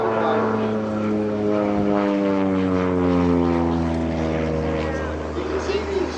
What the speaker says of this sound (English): sportsman level capable competition airplane. It's all carbon fiber.